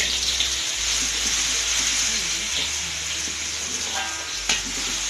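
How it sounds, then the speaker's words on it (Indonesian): Blended spice paste for panada sautés in a little oil in a pan, giving a steady, close hiss and sizzle that runs throughout with no talking over it. "Habis itu ditumis ya dengan minyak sedikit"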